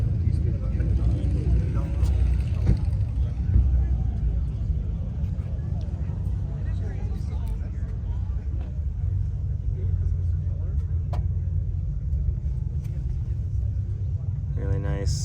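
A Ferrari 458 fitted with BBS wheels idles or runs at low revs, producing a deep, steady engine rumble that continues throughout at moderate level, with people talking faintly nearby.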